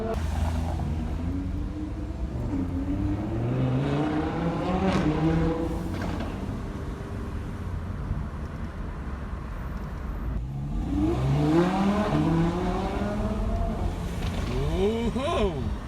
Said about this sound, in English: Pops. That's the best thing about the Huracan.